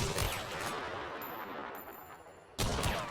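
Long-ammo rifle shots fired at practice dummies in Hunt: Showdown, a dense run of sharp gunfire bursts with a brief lull near the end before another loud burst.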